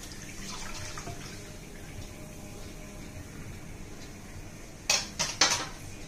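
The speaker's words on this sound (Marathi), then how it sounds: "ह्या भांड्यात मी दूध आता ट्रान्सफर करत आहे." Warm milk poured into a metal kitchen vessel for curd-making, a soft trickling and liquid splashing for several seconds, ending with a few loud clinks of metal utensils knocking together near the end.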